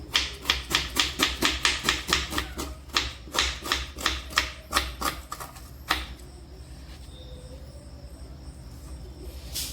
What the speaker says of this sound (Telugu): ముందుగా ఆనియన్ కట్ చేసుకుందాం సన్నగా కట్ చేసుకోవాలి